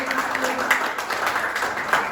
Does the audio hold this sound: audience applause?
yes